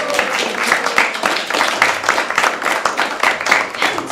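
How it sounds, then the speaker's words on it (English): Audience applause in a temple lecture hall as people come up to receive certificates, steady dense clapping from many hands throughout. "keep clapping till they come and get their certificate"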